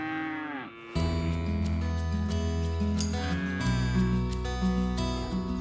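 Dairy cows on a farm low loudly in overlapping, sustained moos after a short pause, several animals calling close by with no speech.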